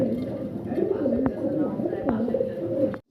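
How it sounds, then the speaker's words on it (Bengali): Fancy pigeons in a breeding cage coo in soft, repeated throaty rolls close by, with someone talking over them. "এই ওদের খাঁচাতে সাইরা দিছে ভাই হলো ওদের ব্রিডিং খাঁচা এখানে মানে ওদের রাখি আমি এখানে আসলে একটু মানে ডাকাডাকি করে"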